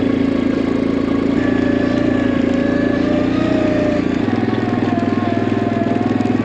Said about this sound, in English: we got the four-wheeler up and running.